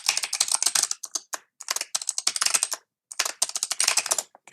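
Quick bursts of keystrokes clatter on a computer keyboard as a command is typed, close and crisp, with short pauses between clusters of taps and no talking.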